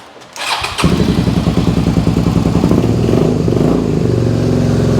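A Suzuki SV650S motorcycle engine on choke cranks briefly, then catches and settles into a loud, steady, slightly uneven idle up close, with no talking.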